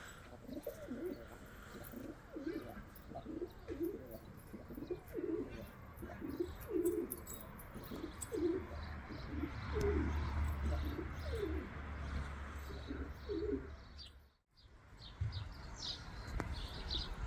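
Racing pigeons in a loft coo repeatedly in rhythmic, throaty bursts, fairly close, with faint chirps and light background rustle; a male chasing a hen keeps calling over a low steady hum, with no speech.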